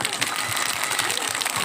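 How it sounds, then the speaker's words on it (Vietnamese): Congregation applauding priests at a church gathering in a mountain village in Vietnam, a continuous, even round of clapping from many hands filling the space throughout. "Chúng ta chào 3 cha hạt một tràng vỗ tay."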